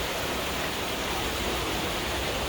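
Water pours steadily out of a man-made outlet in a shady spot, a dense, even rushing wash that is close and loud for a few seconds with no talk over it.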